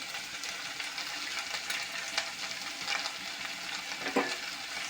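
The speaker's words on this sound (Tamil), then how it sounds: "இது நல்லா சுருள கொஞ்சம் வதக்கணும்" Drumstick leaves and coconut sauté in a hot pan, giving a steady crackling sizzle with soft stirring scrapes throughout and a brief louder clatter near the end.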